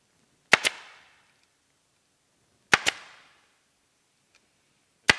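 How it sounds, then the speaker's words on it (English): A staple gun fires three sharp double snaps spaced about two seconds apart, close and loud against silence, while stapling a new cover onto an ATV seat. "then it's just time to start stapling it everywhere"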